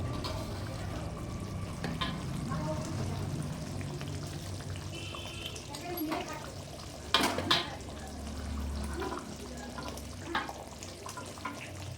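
Chicken pieces going into a thick, grainy korma gravy in a hot pan, a wet sizzling and bubbling with a few clattering spoon hits, moderately loud and close.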